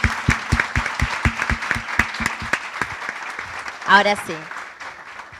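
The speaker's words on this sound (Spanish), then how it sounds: "No, un aplauso primero." A panel audience at a 2022 conference breaks into applause, starting as crisp, evenly spaced claps up close that thin out before a voice speaks briefly.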